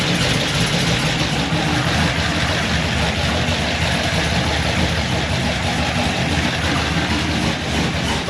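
A 2015 Camaro Z28 with a new cam and full exhaust idling loud and close, a steady, rough, rumbling drone that holds evenly throughout with no talking.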